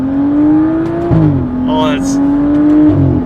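A BMW F30 335i with an N55 engine and a stage 3 tune drones steadily while someone talks over it, with a brief rise and dip in pitch around a shift.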